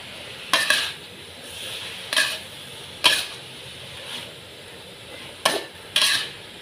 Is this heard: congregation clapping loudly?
no